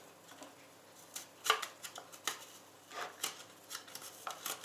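Garlic being grated on an ordinary Soviet-style hand grater, heard as a run of short, scratchy rasping strokes in an irregular rhythm, close and fairly quiet with no voices.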